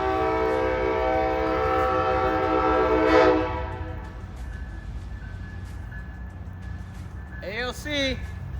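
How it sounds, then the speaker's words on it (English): The Amtrak Floridian 41 passenger train passes in Tampa, Florida, a loud sustained roar that fades after a few seconds, with a brief horn-like burst near the end. "Here comes Amtrak 41."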